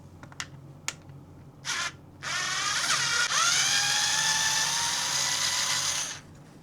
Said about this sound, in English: we're going to use our electric screwdriver to unscrew that